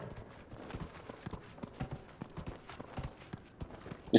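Horse hooves clip-clopping in the video game Dragon Age Inquisition, a steady run of crisp, evenly spaced hoof thuds at moderate loudness with no talk over them.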